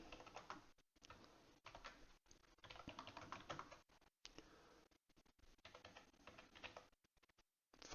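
Quiet, close typing on a computer keyboard while coding on a Commodore 64, irregular bursts of key clicks broken by short pauses.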